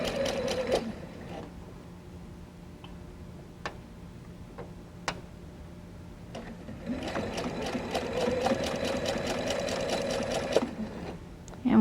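A sewing machine stitches the seams of a chicken-shaped pin cushion, starting with scattered ticks and clicks, then running in a steady fast rhythmic stitching rattle close by for several seconds.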